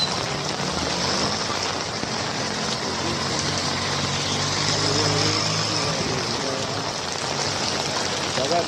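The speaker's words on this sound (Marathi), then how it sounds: "खूपच जोरात पाऊस चालू." Heavy monsoon rain pours down in Kalyan, a dense, steady hiss that holds at the same loudness throughout, with a faint low rumble of passing traffic beneath it.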